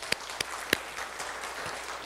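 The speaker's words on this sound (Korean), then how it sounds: "함께 영광의 박수 올리겠습니다" A church congregation at a middle school youth worship service gives a short round of applause, scattered claps popping over a soft, even wash of clapping.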